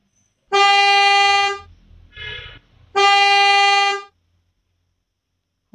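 A bus horn in a bus-driving video game blares twice, each a loud, steady, brassy tone lasting over a second, separated by a brief engine-like rumble.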